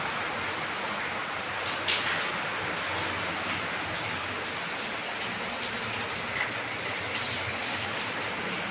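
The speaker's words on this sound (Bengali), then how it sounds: "আর খুব জোরে বৃষ্টিটা হচ্ছে।" Steady heavy rain pours outside a house near the kitchen window, a constant even hiss heard from indoors, fairly soft and uninterrupted, with no voices.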